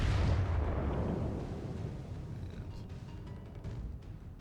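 Heavy naval guns of the Japanese battleship Kongou boom in a video game, a deep rumbling blast at the start that rolls and decays over several seconds into a low, fading roar.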